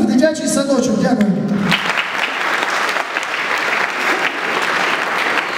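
Audience applause at a stage comedy show breaks out after a man's closing words and continues as a steady, full clapping from the crowd to the end.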